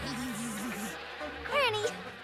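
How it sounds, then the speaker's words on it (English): Bees buzzing in a My Little Pony Friendship is Magic cartoon, a faint wavering insect drone under quiet background, with a brief voice sound near the end. "Oh, you've all been busy little bees"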